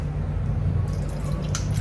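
Water running and dripping over drinking-water jugs as they are rinsed clean, a steady close splashing trickle with soft drips, no voices.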